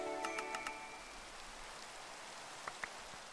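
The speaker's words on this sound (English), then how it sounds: "God, it is still raining." Rain falls in a video game's grass-type area as a soft, steady patter, with a few brief chime-like tones at the start and two short plinks near the end, fairly quiet throughout.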